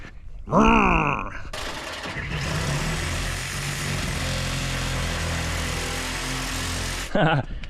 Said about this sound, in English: So I'm gonna get a Sawzall and do some cutting.